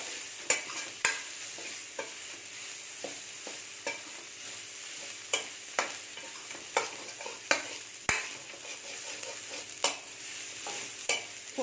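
Fennel and cumin seeds sauté in a pan with a soft steady sizzle, while a spoon stirs and scrapes against the metal in regular sharp clicks, close and fairly quiet.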